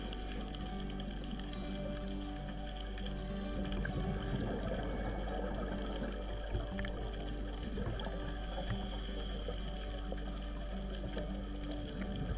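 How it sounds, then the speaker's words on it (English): Waves breaking on rocks heard underwater during a scuba dive in the Galapagos, a constant muffled roar and hiss with crackling and low rumbling that continues without pause. "You can hear the sound of the water breaking."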